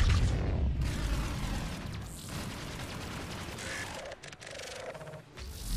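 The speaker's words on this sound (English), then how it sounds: "Tech burst. Explosion." A tech burst explosion in the game Mass Effect booms loudly with a heavy low rumble and crackling debris, followed by mechanical clanks and shorter bursts as the combat noise continues.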